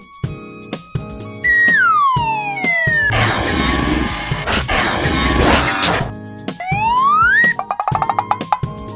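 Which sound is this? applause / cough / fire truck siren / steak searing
fire truck siren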